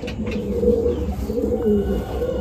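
Madrasi pigeons coo in low, rolling, continuous calls nearby, with a faint chirp or two in the background.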